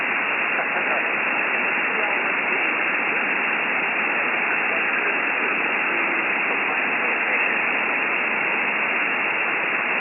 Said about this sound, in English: It's just right on the edge of my noise with the 10 watts there, Jerry.